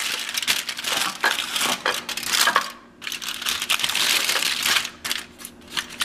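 Foil packet around a seasoned, butter-stuffed trout being folded up by hand, close crinkling and crushing in irregular bursts with a brief pause midway.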